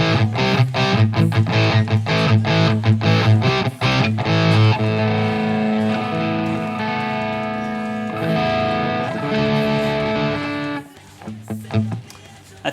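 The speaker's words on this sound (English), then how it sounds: "you can definitely get some crunch tones, but now I have the gain at around maybe 8 o'clock." An electric guitar played through a Peavey JSX amp with a crunchy, moderately distorted tone, starting with choppy rhythmic chords and moving into sustained ringing chords, heard alone.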